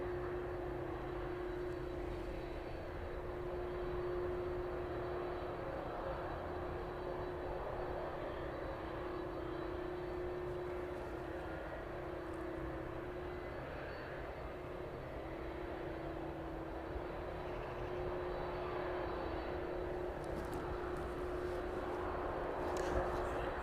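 An airliner pushing back off stand and taxiing from the apron onto the taxiway at East Midlands Airport in the evening, its engines a steady, moderately distant drone with a sustained whine throughout.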